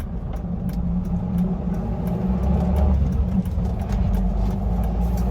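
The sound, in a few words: 1977 Mercedes-Benz 240D W123 diesel accelerating, shifting gears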